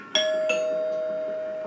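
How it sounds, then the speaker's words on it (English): A two-tone doorbell chime rings once, the second note ringing out and slowly fading in a quiet room. "The doorbell suddenly rang."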